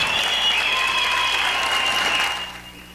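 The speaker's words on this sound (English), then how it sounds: "A crowd of supporters and admirers cheered as Charles Moose took the podium" Supporters and admirers at a county farewell party for a former police chief applaud and cheer, a dense, steady wash of clapping that holds strong for about two seconds before fading toward the end.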